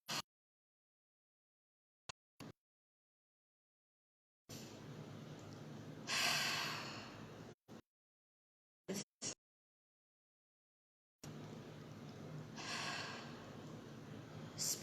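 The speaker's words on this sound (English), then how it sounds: "we're going to take one deep breath" One slow, deep breath drawn in and let out in a long exhale, heard close and alone, with two breathy bursts separated by silence and a few faint short clicks between them.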